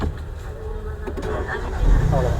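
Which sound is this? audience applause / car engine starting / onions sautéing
car engine starting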